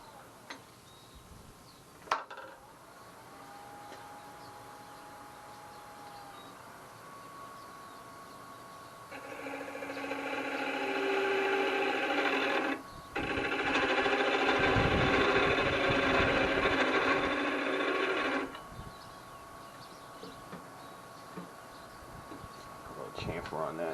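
A wood lathe spins padauk while a new parting tool cuts in, giving a harsh, bright grinding hiss in two bursts of several seconds, separated by a short break, over a quieter motor hum.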